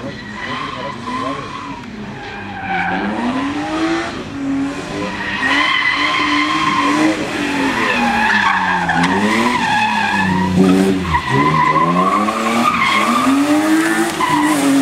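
Drift cars skidding at a drift race near Nafplio, long wavering tire squeals rising and falling over loud revving engines, sustained and close for the whole stretch.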